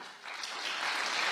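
An audience claps during a spoken talk, a dense wash of applause that builds steadily over a second or so, fairly soft and heard from a distance.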